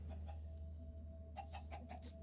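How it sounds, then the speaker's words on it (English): Video game chickens inside a house cluck softly in short, scattered bursts over a low steady hum, faint and spaced apart. "Eventually, you'll have chickens in your house."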